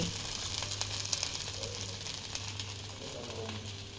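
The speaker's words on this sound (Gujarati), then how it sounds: "અહીંયા મમ્મી ઢોસા બનાવે છે" A quiet, steady sizzle of dosa batter cooking on a hot griddle, faint and continuous with a low background hum.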